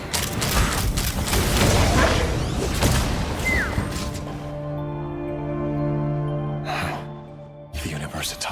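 Gunfire erupts in a Genshin Impact cutscene, with dense bursts of shots and crashes dominating the first seconds under a loud voice, followed by a quieter sustained tone and a few sharp hits near the end.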